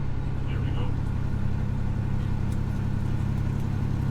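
A truck engine runs at raised RPM with a steady low droning hum and a faint whine, holding fairly constant, while a voice speaks briefly over it.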